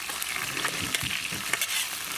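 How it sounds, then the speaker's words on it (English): Cheeseburger slider patties fry over a campfire, giving a steady close sizzle and crackle with small pops and a few scraping stirs, and no voices over it. "you can see we got them grilling up in here, frying up I should say"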